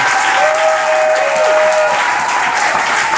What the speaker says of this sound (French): Si tu as les mains pour acclamer le Seigneur, acclame ce fort le Seigneur.